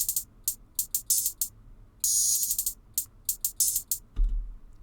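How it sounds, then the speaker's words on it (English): Crisp hi-hats tick through an uneven, syncopated pattern, with short bursts and one longer open hit. A low kick thump lands near the end. The drums are dry and close, heard alone. "These are the hi-hats I used."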